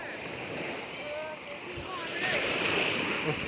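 Sea waves wash onto the beach at Cha-am as the tide comes in, a steady broad rush of surf mixed with wind buffeting the microphone.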